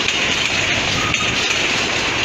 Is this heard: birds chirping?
no